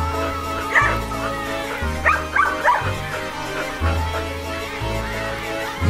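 A small dog gives a few short yips and whimpering barks, close by, over soft background music.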